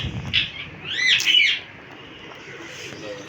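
Pigeons flap their wings as they land on a rooftop, a fluttering rush with soft chirps and coos, fairly close, fading to quiet outdoor ambience.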